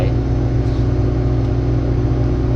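Tractor plowing a flooded rice paddy field, its engine giving a steady, loud, continuous low drone with a constant hum throughout.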